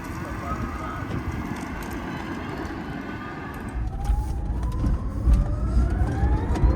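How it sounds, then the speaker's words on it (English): Drako Dragon electric SUV with 1,200 horsepower driving, a steady road and motor hum that swells as it accelerates, with rising electric whine tones toward the end. "let's go ahead and take it for a drive"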